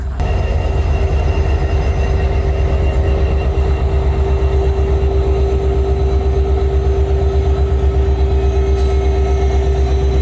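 Alaska Railroad cars, including dining and baggage cars, rolling past at Denali railway station in icy winter cold, a loud, steady low rumble with a sustained hum and faint rhythmic rail clatter, no voices.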